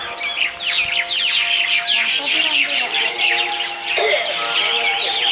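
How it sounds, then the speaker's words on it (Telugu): Many birds chirp and tweet together near an ashram in Nimboli village before dawn, a dense, lively chorus of overlapping calls, fairly close and continuous. "పక్షులు కిలకిలలు"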